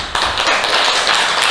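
An audience applauds at a religious gathering, a dense, loud, continuous wash of clapping from many hands that starts abruptly and holds steady.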